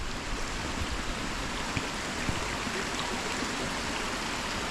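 Drainage water spilling out of a gully and dropping into a main river, a constant loud rushing and splashing with occasional sharper drips, close by and with no voices.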